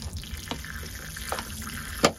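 Water is poured onto spring seedlings, with short splashing and trickling bursts and a sharp drip-like splash near the end, fairly close and without speech.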